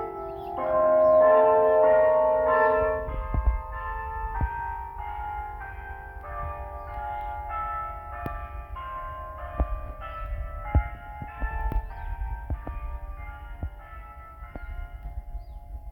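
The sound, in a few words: church bell ringing at St. George Parish Church, Barbados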